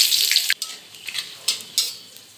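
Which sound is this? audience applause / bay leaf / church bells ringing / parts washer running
bay leaf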